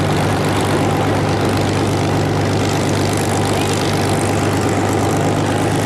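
A Grumman F8F Bearcat piston fighter with a 2,100-horsepower radial engine flies at an airshow, a loud, steady propeller engine roar droning continuously, close and unbroken, with no voices.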